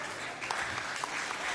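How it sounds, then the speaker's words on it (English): An audience at a Shavuot Tikkun plenary session applauds, a dense steady wash of clapping from many hands that continues evenly, with some murmuring voices mixed in. "Thank you for applauding me."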